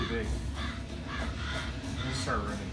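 Crows caw several times in the Resident Evil 7 video game, repeated harsh calls at moderate level over a low rumbling game background with a player talking.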